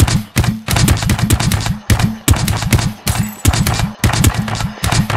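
Rapid bursts of automatic gunfire in short volleys, loud and close, with sharp repeated cracks and brief gaps between strings of shots.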